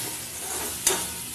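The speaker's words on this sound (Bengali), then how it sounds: "মাছটা দিয়ে কড়াইতে তেল দিয়ে কালো জিরে ফোড়ন দিয়ে চাপিয়ে দিয়েছি।" Live koi fish fries in oil with black cumin seeds in a wok, giving a steady close sizzle with one brief sharper spatter or stir partway through.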